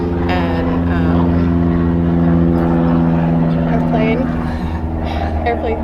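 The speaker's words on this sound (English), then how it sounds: "airplanes" A propeller airplane drones overhead in a steady, loud low hum that holds throughout, with faint background sounds layered on top.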